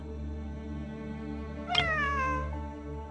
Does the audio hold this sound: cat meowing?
yes